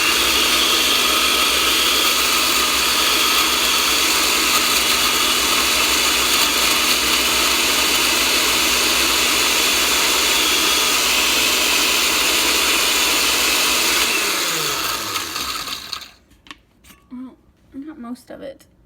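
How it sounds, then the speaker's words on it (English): Kitchen blender grinding stale bread into crumbs, a loud sustained whirring drone that runs steadily, then winds down and stops, followed by a few soft handling knocks and a brief voice. "put it in the blender to blend it into little crumbs"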